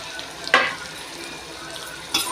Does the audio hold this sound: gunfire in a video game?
no